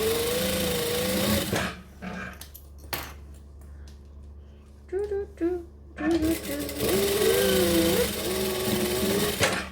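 A sewing machine runs in short bursts while sewing up the sides of a zipper pocket panel for a bag, its whirring stitching broken by pauses, with a person talking over much of it.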